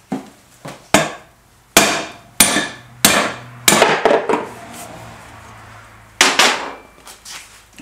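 Sharp metal hammer blows knock bearings out of an Indian Trailblazer motorcycle chain case part, about nine loud, separate strikes in an uneven rhythm with short ringing decays and brief pauses between them.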